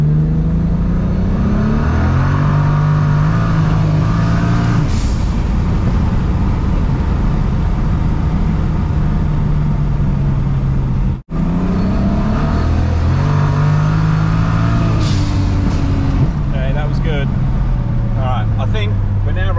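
A single-turbo N54 BMW 335 running about 28 PSI pulls hard, its engine climbing loud and close through the revs, breaking off briefly at a shift and then surging again, with people talking over it.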